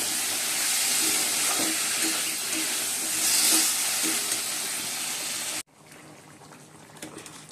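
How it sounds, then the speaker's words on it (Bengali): Fish curry gravy bubbling and steaming in a pan, a steady broadband hiss with soft pops, loud and close, cutting off abruptly near the end to quiet room noise. "ঝোলটা ফুটে গেছে"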